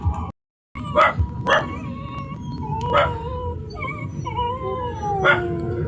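A dog howls and yips in several drawn-out, wavering cries with short barks between, loud and close, with a brief silent gap near the start and no talk.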